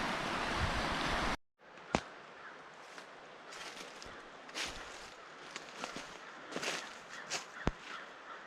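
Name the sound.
creek water flowing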